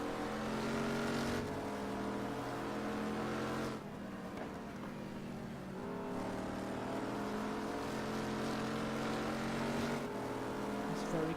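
GT3 race cars in a racing game at Killarney circuit, engines droning loud and steady with revving shifts and gear changes as the pack runs close together, a commentator-like voice mixing in.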